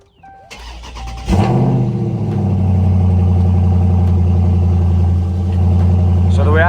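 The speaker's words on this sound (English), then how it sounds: "let's turn it on. Cold start." Cold start of a Dodge Charger Scat Pack: a short starter crank, then a loud, deep V8 that catches and settles into a steady, rumbling idle with a small rev near the end.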